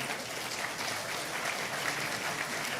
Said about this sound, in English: a thunderous round of applause, not an AI round of applause